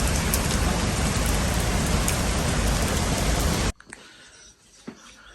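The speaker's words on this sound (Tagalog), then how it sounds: "Lumakas na naman ang ulan kabsat." Heavy rain pours in a dense, loud, steady hiss for several seconds, then cuts off abruptly to a quiet background with a few faint knocks.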